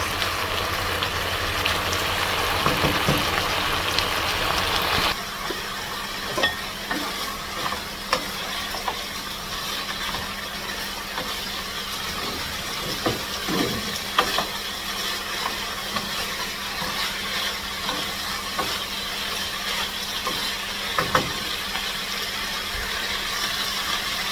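Chicken and vegetables stir-fry in a pan, giving a steady close sizzle with frequent scraping and clinking of the utensil and no talking.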